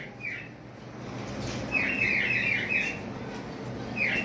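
Lutino Fischer's lovebird with red eyes at a bird farm, giving short high chirps in scattered bursts over a low background hum, fairly close and moderately loud.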